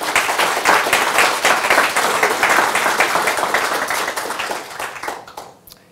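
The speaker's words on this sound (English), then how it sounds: "So please just give a round of applause for all the people that support us to do this." Audience applause at an accessibility meetup in London, a dense roomful of clapping that holds steady for several seconds and then tapers off toward the end, heard alone without voices.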